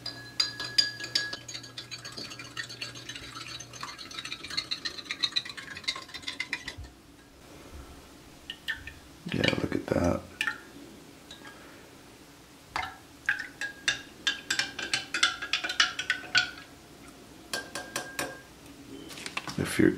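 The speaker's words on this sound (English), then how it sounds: "Let's give it a stir." Canned pork with rice in BBQ sauce being stirred with a utensil: scattered metallic clinks and scrapes against the container, with a louder cluster of knocks midway and quieter intermittent taps, close and without talk.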